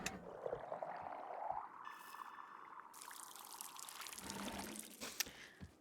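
Liquid poured out of a cup in the Wanderstop video game, a soft continuous trickle and gurgle running for several seconds, with brief chime-like game tones layered over it.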